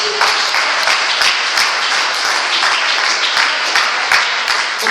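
A church congregation claps loudly in praise during a worship service, with sharp individual claps standing out from a steady, full round of applause.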